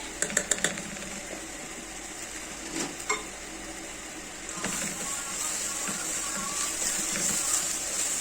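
A spoon stirs half-boiled lentils in a pot while koshari cooks, with a few sharp clicks early on, then a steady soft scraping and faint sizzle throughout, close and moderately quiet with no talking.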